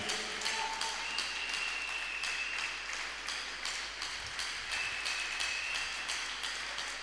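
A church congregation claps in acclaim, a soft, steady spread of many hands heard from a distance, with faint tonal pings and background murmur.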